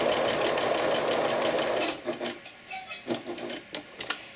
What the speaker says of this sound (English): Now I'm going to do what's called chain sewing.